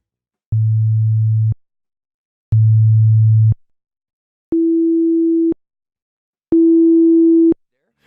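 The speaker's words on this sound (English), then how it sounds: "I'm going to run a sine wave through a compressor" Four steady pure sine-wave tones run through an analog compressor, each about a second long with short gaps; the first two low, the last two higher, the final one carrying faint added overtones.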